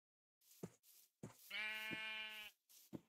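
Sheep bleat in a survival video game, close and fairly quiet. One long, wavering bleat sits between several shorter thumps and bleats, with no voices.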